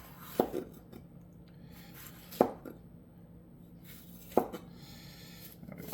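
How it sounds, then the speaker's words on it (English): A knife chops peppers on a cutting board in a slow, steady rhythm of four distinct, close thuds with quiet pauses between them, and no voices. "So all we're going to do with these is we're going to cut them down the middle."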